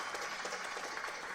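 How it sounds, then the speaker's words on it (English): An audience applauds at a speedrun event for a runner clearing a level, a brief, fairly faint patter of clapping with a hint of crowd noise. "give this man a round of applause"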